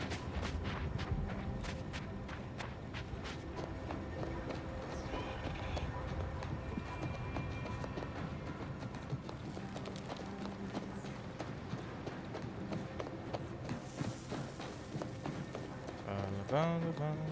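Horse hooves clip-clopping in the video game The Outer Worlds 2, a steady run of quick hoofbeats kept low under continuous game ambience, with a brighter accent near the end.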